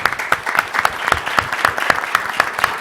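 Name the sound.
applause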